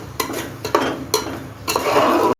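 Chutney stirred into a pot of mutton biryani, heard as several distinct scraping spoon strokes against the pot, each a short rough burst over quiet sizzling.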